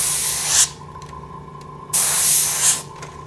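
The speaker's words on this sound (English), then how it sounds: "spray closer, pull it back, move it down, spray against that edge, pull it back" Tattoo Pro spray bursts close against a stencil edge: two loud, steady hissing sprays of about half a second and a second each, separated by a pause with faint background hum.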